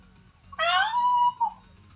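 A single clear cat meow, drawn out and falling in pitch with a short tail at the end, close and isolated over a low background hum, in a Sega Genesis Gauntlet 4 game.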